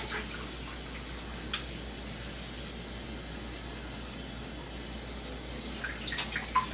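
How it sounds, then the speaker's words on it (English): A bathroom tap runs steadily while shaving lather is rinsed off a head, making a soft continuous water hiss with a few faint splashes and drips near the end, and no voices. "So when I rinse, I'll leave a little water on my head"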